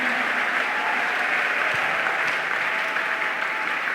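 A church congregation applauding together, sustained loud clapping that fills the space evenly and steadily from start to finish with no break.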